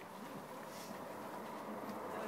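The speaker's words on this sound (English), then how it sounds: "I'm going to wait for the train to pass." A steady, broad rumbling rush of a passing train, fairly distant and even in level, with faint clattering running through it.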